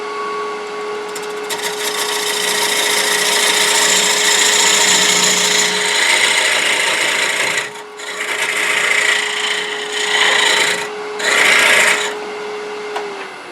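A steel turning tool cutting a wood table lamp on a spinning lathe makes a loud, close scraping rasp over a steady motor hum, with several brief pauses where the tool lifts off the wood before cutting again.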